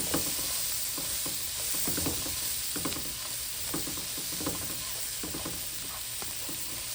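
Garlic sizzles steadily in a hot pan while being stirred, with repeated scraping and clacking strokes every second or so over a continuous frying hiss, close and moderately loud, no voices.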